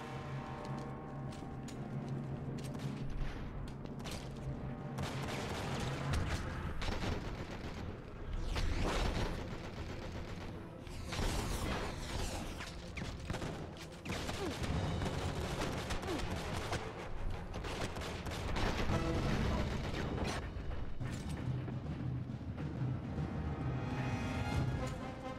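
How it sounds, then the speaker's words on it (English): Gunfire from the Enter the Matrix video game, a continuous dense barrage of shots and blasts layered over game music, loud and sustained from start to finish with no speech. "Yes, I'm firing madly."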